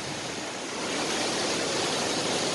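A waterfall in the Peak District gives a loud, steady rush of falling water, continuous and alone with no voices.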